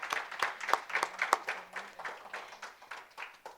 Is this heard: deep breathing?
no